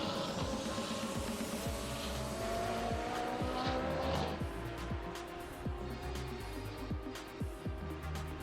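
GT race cars at Sepang International Circuit roar close by, engines revving and shifting through a steady loud pass, with tire squeal and a dense, continuous motorsport din throughout.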